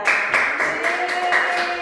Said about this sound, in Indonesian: Tepuk tangan untuk Mbak Lufia.